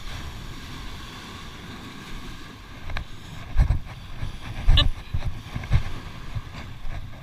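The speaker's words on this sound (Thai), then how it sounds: "คลื่นแรงมากครับ" Strong sea waves wash and thump along a sandy beach while shore fishing for sand whiting, with wind buffeting the microphone and several heavier surges breaking partway through.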